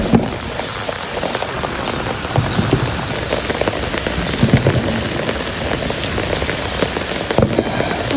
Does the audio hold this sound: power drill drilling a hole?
no